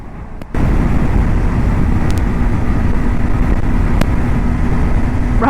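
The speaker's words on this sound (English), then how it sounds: "Holy shit, the wind is ridiculous." Heavy wind roar buffets a rider on a Kawasaki Ninja 500 motorcycle, a loud continuous broadband rush that kicks in after a brief quieter half-second and holds steady throughout with no talk.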